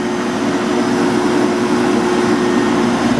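An Allis-Chalmers electric motor runs as a rotary phase converter, its cooling fan pushing air across a workshop floor. It makes a steady, loud whirring hum with no breaks and no voices.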